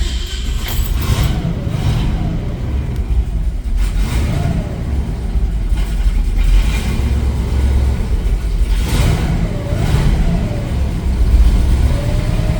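A 1964 Mercury Comet 404 wagon engine runs loud and close on a cold day, with a steady rumbling idle broken by several throttle blips that rise and fall in pitch.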